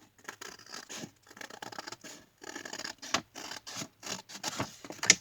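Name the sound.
scissors cutting paper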